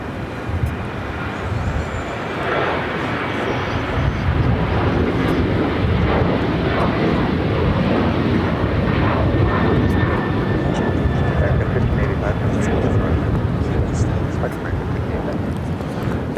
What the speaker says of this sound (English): We have a American 737-800 now taking off